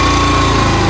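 A motorbike engine straining as it rides uphill, a loud, close, buzzing high-revving drone that holds steady for a brief moment.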